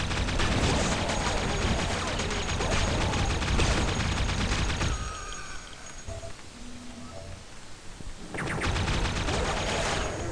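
Chain gun in Duke Nukem 3D firing in a dense, rapid rattling burst that stops briefly, leaving quieter game sounds, then resumes at full volume near the end.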